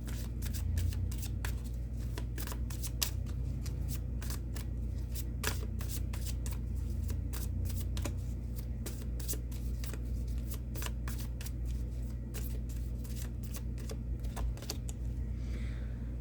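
Goddess guidance oracle cards are shuffled in a steady run of soft, quick flicks and riffles, close and fairly quiet over a constant low background hum, with no one speaking.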